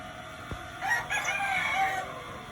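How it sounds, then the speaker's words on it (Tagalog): A rooster crows once in a backyard, a long drawn-out call at moderate distance over a steady low background hum. "nandito din pala yung ating manok"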